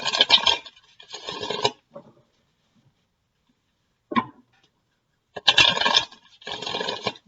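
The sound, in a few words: shuffling tarot cards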